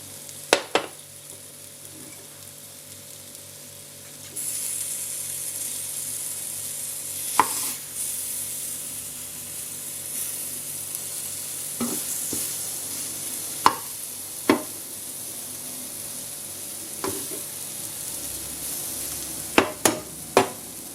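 Pork chops fry in a pan for a Hong Kong style baked tomato pork chop rice dish, a steady soft sizzle with occasional sharp clacks and taps of utensils, close and alone.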